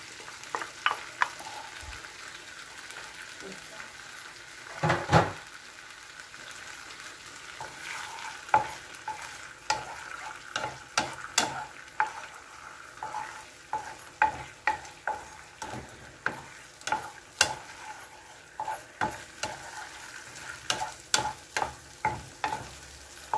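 An egg fries in a pan still oily from earlier frying, with a soft steady sizzle and repeated spatula scrapes and taps in a loose rhythm, close and moderately quiet, with no talk.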